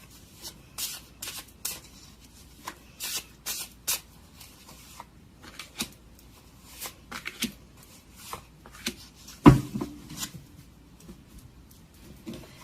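Tarot cards are shuffled by hand in short riffling bursts, crisp close-up flicks and slides repeating irregularly with pauses between, one sharper clack near the end.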